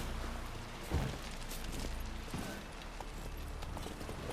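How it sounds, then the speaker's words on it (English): Horse hooves clip-clop in The Witcher 3 game, a faint, steady trotting rhythm set under a dense, continuous bed of game music and ambience. "Where's my horse? I need my horse."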